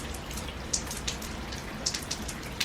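Rain drips from a faulty, badly reset gutter, a steady wash of rainfall with a handful of sharp, separate drops landing nearby at irregular intervals, no voices.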